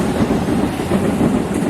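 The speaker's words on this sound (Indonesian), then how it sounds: "Kalian bisa lihat di atas itu ada kereta." A train rumbles past close by, a loud continuous roar of wheels and carriages on the tracks, near a main station entrance and town square.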